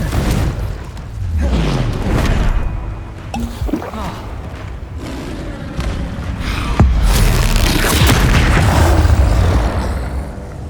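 Booming blasts from the Confringo spell in Hogwarts Legacy on PS5 go off in heavy bursts with low rumbling impacts and crackling debris, loud and close, layered over game ambience.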